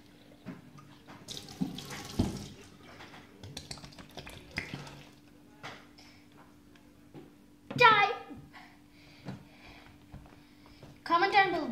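Failed homemade slime rinsed under a running kitchen tap, water splashing and trickling into a sink with occasional handling sounds, while someone talks over it and a brief squeal cuts through.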